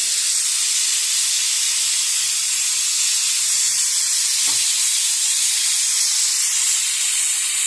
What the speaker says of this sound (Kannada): ಕುಕ್ಕರ್ ನೋಡ್ರಿ ಅದು ಸೌಂಡ್.